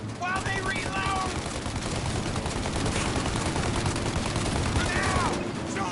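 Dense, continuous automatic gunfire rattles throughout a shootout in the game Mafia, loud and steady, with shouted voices over it at the start and near the end.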